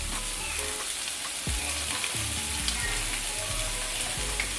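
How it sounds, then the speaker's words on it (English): Sopes fry in piping hot grease, a dense continuous sizzle and crackle with scattered pops, close and steady throughout. "Now I'm gonna start adding these sopes to this piping ass grease."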